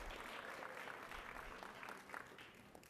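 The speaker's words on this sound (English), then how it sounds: "please give them a big round of applause" Faint, distant crowd clapping at a Cook County Lunar New Year celebration for a Chinatown neighborhood school group, a soft continuous patter with no talking.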